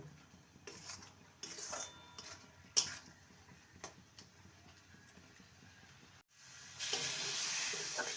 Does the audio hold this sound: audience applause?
no